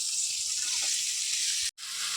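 Shrimp frying in hot oil with chopped bitter gourd and potato, a loud continuous sizzle broken by one brief dropout near the end before the hiss resumes.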